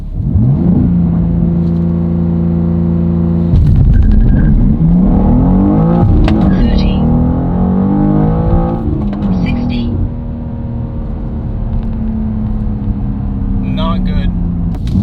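A manual BMW M2 G87 launches hard and accelerates, its engine revving up through a rising roar and gear changes, loud and close from inside the car, with someone talking over it.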